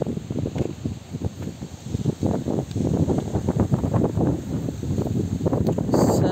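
Strong wind at Gundar dam buffets the microphone in loud, uneven gusts and rumbling blasts that continue throughout.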